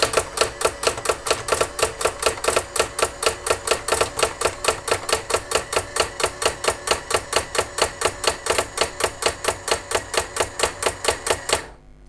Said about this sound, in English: now I can start typing